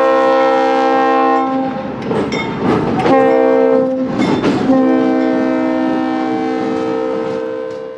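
A General Electric B23-7 diesel locomotive, built for Conrail in 1979 and running on the Minnesota Commercial, sounds loud, sustained horn blasts as it passes close by, with rumbling wheel and engine noise beneath.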